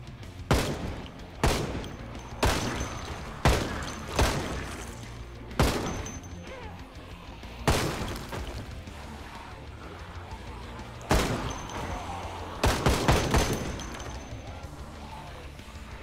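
M16 rifle gunfire in the zombie survival game Project Zomboid, loud sharp single shots and quick pairs spaced irregularly, with ringing tails between them.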